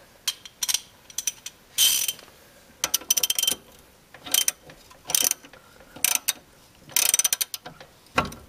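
A ratchet wrench tightening a 17 mm strut nut on a 2002 Honda Civic front strut, loud close bursts of rapid clicking repeated in short strokes with brief pauses between them.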